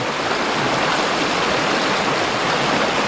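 Loud, constant rush of water tumbling over rapids and a small waterfall on the Vizla river in Latvia, a dense roaring flow close by with no letup.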